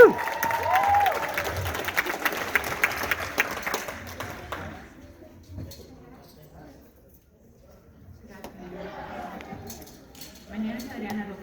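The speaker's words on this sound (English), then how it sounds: "Please give a round of applause to Senator Rebecca Saldana and Representative Mia Ritter." At a OneAmerica Votes political rally, the crowd gives a loud round of applause for speakers on stage. The clapping fades to near quiet, and then scattered clapping and crowd noise return near the end.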